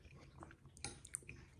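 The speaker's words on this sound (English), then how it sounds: "The phyllo dough adds a nice little crunch to it." Close, quiet chewing of chocolate baklava cake with crunchy phyllo dough and nuts, soft moist bites broken by a few small crisp crunches over a brief moment.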